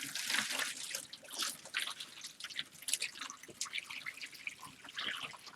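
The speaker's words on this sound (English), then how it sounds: "I'm going to grab a bucket of water to pour in there." A bucket of water poured into seed starting trays, giving a steady patter of trickling and dripping water over several seconds, close and fairly faint.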